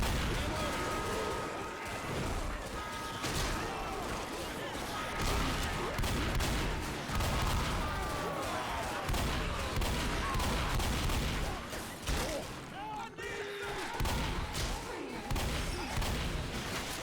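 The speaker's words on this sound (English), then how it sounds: "Dude, I'm literally shooting everybody on accident, bro." Continuous gunfire in the video game Left 4 Dead as teammates get shot by accident: dense rapid shots and bursts layered over busy game noise, with voices talking throughout.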